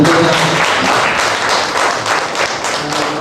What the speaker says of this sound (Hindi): वंडरफुल, जोरदार तालियां से